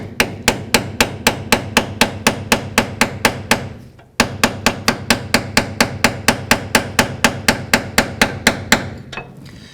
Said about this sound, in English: We're gonna go ahead and use a long punch and a hammer.